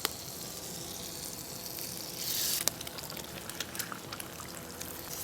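Eggs cooking in butter in a hot pan for fried rice: a continuous soft sizzle and crackle with a brief louder hiss partway through, close up with scattered small pops.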